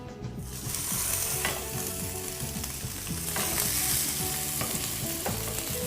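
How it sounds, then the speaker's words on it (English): Steady, loud sizzling of fish frying skin-side down in a hot pan, a continuous crackling hiss with small pops and scrapes throughout. "when the pan got really hot, as you can see, you need to hear the sizzle sound when you place it"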